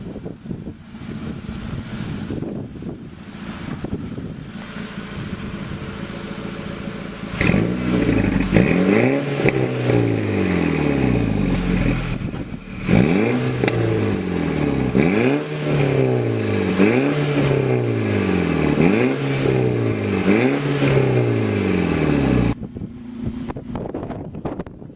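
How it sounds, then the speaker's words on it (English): A car with a TSI/FSI direct-injection engine, at 17,000 miles and just after an intake valve cleaning, revs repeatedly in close, loud bursts. Each rise and fall of the engine note comes in a steady series with no talking. "Give it a little bit of gas."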